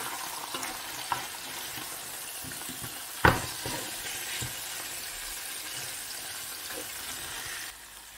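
Meat seasoned with a little cumin, salt and black pepper frying in a pan while being stirred, a soft continuous sizzle broken by scraping strokes and one sharp utensil knock partway through, with no voices.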